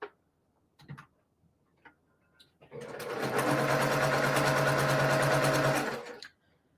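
A sewing machine chain-pieces quilt blocks, with a few soft handling clicks and then a close, steady rapid stitching run lasting about three seconds before it stops.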